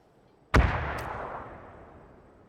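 A single sharp gunshot cracks nearby in PUBG, followed by a faint second report and a long fading echo, against near silence.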